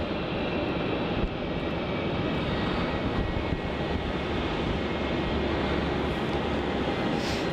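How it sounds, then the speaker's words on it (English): A Qantas Link airliner departs runway 34 at Melbourne Airport, Australia, its jet engines giving a loud, steady, broadband roar that holds for the whole stretch with no talk. "we're about to have a pocket rocket departure off of runway 34"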